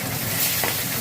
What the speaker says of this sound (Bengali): এদিকে আলু ভাজছে